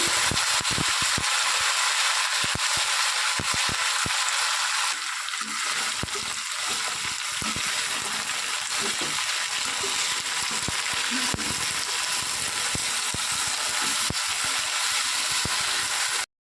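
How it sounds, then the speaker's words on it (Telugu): An onion curry fries in a pan with a continuous hissing sizzle, threaded with quick clicking and scraping from stirring throughout. "కూర ఫ్రై అవుతుంది."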